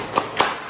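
Two sharp claps about a quarter second apart from a class doing a clap rhythm, a near, distinct pair in a quiet room.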